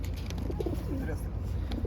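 Soft pigeon coos close by, a few low rolling calls over a busy background murmur at a pigeon show at a market.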